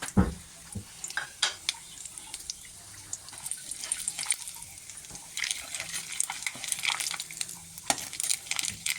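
Whole spices, cumin, cinnamon, cardamom, cloves and mace, frying in oil for a fish kalia, soft intermittent crackles and sharp spitting pops over a quiet sizzle, fairly faint and irregular.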